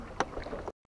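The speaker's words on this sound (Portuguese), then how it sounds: "Estamos voltando aqui agora pra casa com os motores. É dois cavalos." Small boat on the Xingu River in Pará running two-horsepower outboard motors, a steady close engine and water rush lasting most of the second before cutting out abruptly.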